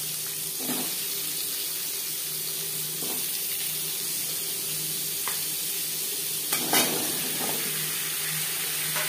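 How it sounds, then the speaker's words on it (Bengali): Potatoes frying in a pan with salt and turmeric, a steady soft sizzle throughout with a few brief clatters of stirring, close and moderately quiet. "সবার প্রথমে আমি আলু ভেজে নেব।"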